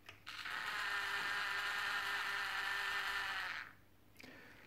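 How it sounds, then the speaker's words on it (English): Cobalt point motor on a model railway throwing the points: a close mechanical whirring grind lasting about three seconds, then stopping, followed by a faint click. "Now I'm going to throw a cobalt point motor."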